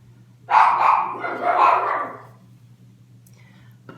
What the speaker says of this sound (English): I have no idea why my dogs are barking tonight